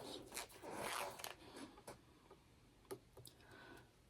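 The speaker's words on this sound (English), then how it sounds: "I'm using my zipper jig to apply the pulls" Zipper pulls being fitted onto cut zipper lengths with a zipper jig while making a sling bag: a burst of close scratchy zipping and rasping, then scattered small ticks and clicks, fairly faint, with no speech.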